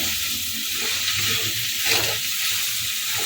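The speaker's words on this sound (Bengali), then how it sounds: "এবার ভালো করে নাড়াচাড়া করবো" Chopped spring onion greens fry and get stirred in a pan with little oil, a steady close hiss and sizzle with soft scraping strokes that swell briefly midway.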